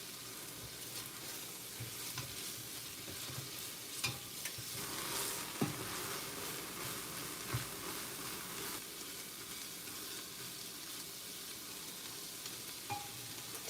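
Onions cooking down in a soup pot, stirred with steady sizzling and frying hiss, with occasional scrapes and knocks of the spoon against the pot, fairly quiet and close throughout.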